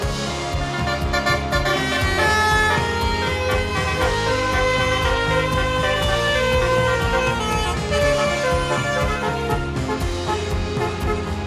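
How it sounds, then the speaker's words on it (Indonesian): A Basuri bus sounds its multi-tone telolet horn, loud, melodic tooting that runs on without pause for over ten seconds, with no voices. "Mobil bus basuri telolet."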